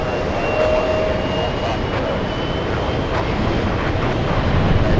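A Delta Airlines Boeing 757 takes off at JFK airport, giving a steady, loud, broadband engine roar that holds evenly throughout without a break.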